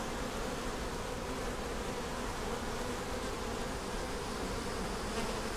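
Bees drone steadily around an opened hive during an inspection for queen cells and brood, a dense, continuous buzz close by with no talking.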